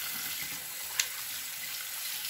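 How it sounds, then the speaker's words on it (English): Warm water is poured over a freshly bleached wig to rinse it, a steady, even rush of running water that holds for the whole stretch, with one small click partway through. "Let me open this and just pour warm water and wash it out."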